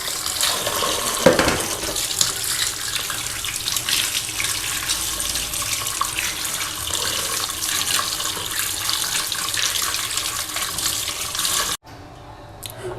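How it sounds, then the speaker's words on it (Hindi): Potatoes being washed for samosas under a running kitchen tap, a loud steady gush of water splashing into a sink for about twelve seconds before cutting off abruptly. "सबसे पहले हम आलूओं को अच्छी तरीके से वॉश कर लेंगे"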